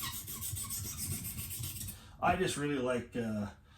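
A kitchen knife is sharpened dry on a sharpening stone, working near the heel with steady close rasping strokes for a couple of seconds, and then a voice takes over.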